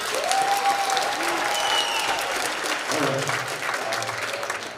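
A school assembly audience claps steadily in a large room, a loud dense wash of applause with a few whoops and voices that eases slightly toward the end.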